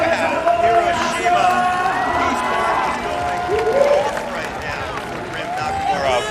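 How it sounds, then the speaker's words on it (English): A stadium crowd at a BMX freestyle park World Cup semi-final in Hiroshima roars and cheers in a continuous wash of noise beneath an excited commentator's voice. "you can just hear the energy of the crowd going absolutely wild for Rim."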